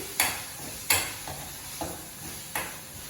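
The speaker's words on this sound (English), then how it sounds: "So I'm going to put the masala. And then stir it again." A spoon stirs masala into a simmering dum aloo gravy in a pot, five scraping strokes at an uneven pace with a soft bubbling sizzle underneath.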